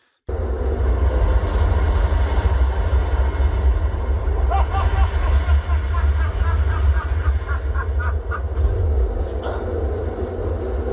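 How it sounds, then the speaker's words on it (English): A deep, continuous rumble of a moving train in the film Joker, with rattling and clattering on top, plus faint tonal sounds drifting in and out. "I think I heard a little, just a little bit of the atmosphere when the train shakes."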